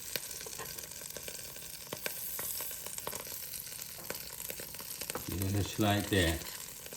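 Ube pancake batter sizzling and frying in a Power XL cooker, a steady soft hiss throughout with a voice speaking briefly near the end.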